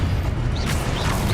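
A Confringo fire spell blasts off in Hogwarts Legacy, a dense roaring burst with a rising whoosh partway through, loud and continuous for about a second and a half.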